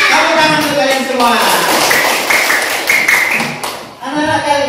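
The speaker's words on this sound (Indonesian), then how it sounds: "Tepuk tangan untuk kalian semua." Children clapping together in a classroom, bursts of rhythmic patterned claps with a teacher's voice speaking at the start and end, close and loud.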